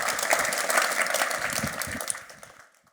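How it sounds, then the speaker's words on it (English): Audience applause for a contestant at a food innovation challenge kick-off event, a dense burst of clapping that holds steady, then fades out near the end. "Can I have a big round of applause for Paolo?"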